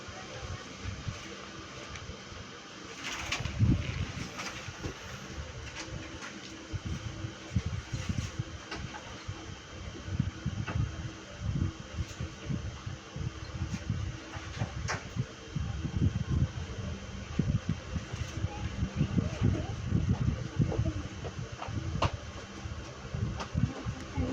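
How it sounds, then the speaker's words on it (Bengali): A small fishing trawler on the Kutubdia channel chugs along with a steady low engine rumble that rises and falls under a constant wash of wind and water noise. "ছোট্ট একটি ট্রলার দিয়ে আসছে।"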